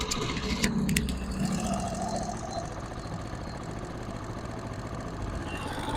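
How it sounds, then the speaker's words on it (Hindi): A repaired Chinese 70cc motorcycle engine runs just after starting, idling with a steady mid-pitched putter beneath a few sharp clicks early on, moderately close. "इसका बाइक का इंजन कंप्लीट हो चुका है। अब हम स्टार्ट करेंगे। स्टार्ट करने के बाद इसका साउंड मैं आपको चेक करवाना चाहूंगा।"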